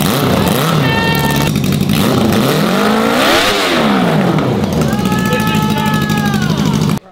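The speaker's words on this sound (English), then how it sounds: "We're gonna find out if she'll start." A Yamaha R6 motorcycle engine swapped into a Raptor quad revs loudly and close by, its pitch sweeping up and down through several throttle blips before cutting off abruptly near the end.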